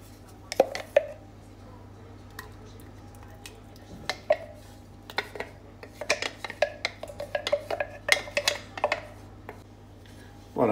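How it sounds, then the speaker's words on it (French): Paprika mixture stirred into a pot of chorba frik soup over medium heat, with scattered clinks and scrapes of a spoon against the pot under a low hum, growing busier and louder toward the end. "Voilà, et là je mélange un petit peu"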